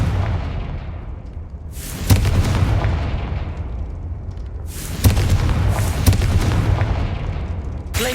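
Fiery Confringo spell blasts in Hogwarts Legacy, played on PC: two loud booming explosions a few seconds apart, each with a crackling, rumbling tail, heard alone without talk.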